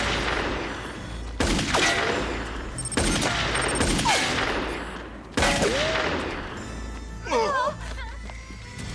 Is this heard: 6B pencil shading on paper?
no